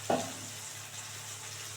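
Steady sizzling of tomatoes frying in a pan, with a brief scrape of stirring at the very start.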